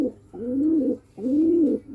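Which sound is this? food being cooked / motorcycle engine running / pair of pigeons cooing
pair of pigeons cooing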